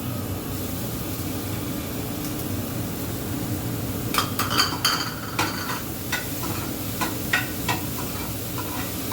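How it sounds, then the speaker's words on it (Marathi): Vegetables sautéing in a pan with tomatoes added give a steady sizzle, then a spatula scrapes and clacks against the pan in irregular strokes over the frying. "सॉटे करून घेऊया छान. टोमॅटो टाकूया."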